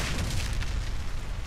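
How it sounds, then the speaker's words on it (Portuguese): A bomb explodes in the video game Warface, giving a loud, sustained, rumbling boom with a noisy, washing roar that fills the whole short stretch. "A bomba explodiu."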